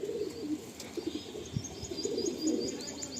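Loft pigeons coo in soft, repeated low rolling phrases, close by and steady over a quiet background, with faint chirps higher up.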